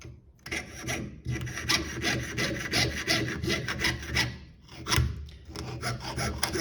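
A jeweler's piercing saw cuts sheet metal in quick, rasping back-and-forth strokes that stay close and fairly quiet, with a brief pause near the start and another just before the five-second mark.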